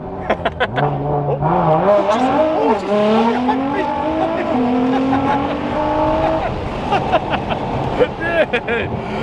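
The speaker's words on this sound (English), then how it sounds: "That was wheel spin through like 3rd gear right there." A car making 900 wheel horsepower on E85 fuel accelerates hard on an open road, its engine note climbing through the gears with wheel spin, loud and close, while people talk excitedly over it.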